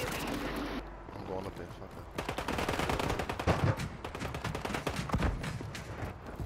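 Dense, continuous automatic gunfire and explosive blasts in a Call of Duty match, loud and chaotic with rapid overlapping shots throughout.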